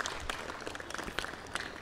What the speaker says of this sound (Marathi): आपण स्वागत करावं टाळ्या वाजवून